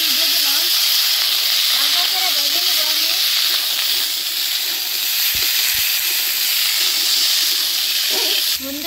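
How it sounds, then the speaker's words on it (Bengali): Papaya and potato frying lightly in oil give off a steady, even hiss that holds for the whole stretch, with a faint voice now and then in the background. "বন্ধুরা পেঁপে আর আলু আমি হালকা করে ভাজিয়ে নিচ্ছি"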